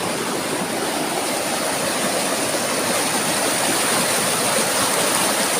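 Kawaka Falls waterfall in the Philippines roars as a loud, dense, unbroken rush of falling water, steady from start to finish with no voices.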